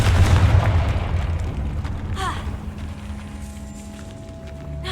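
Hogwarts Legacy's explosive Confringo spell goes off in a deep, loud boom at the start, then fades into a rumbling tail with footsteps and faint ambient tones in a decayed catacomb.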